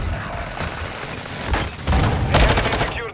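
Loud bursts of automatic gunfire and booms in Call of Duty Modern Warfare II, rapid overlapping shots building toward the end, close and without talk.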